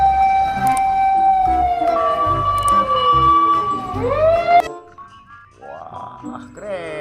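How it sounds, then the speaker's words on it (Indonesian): Fire engine siren from a fire truck with a ladder: a loud, close wailing tone that sweeps down and then up again. It stops abruptly and is followed by quieter tonal sounds. "Wah, kalau yang ini mobil pemadam kebakaran."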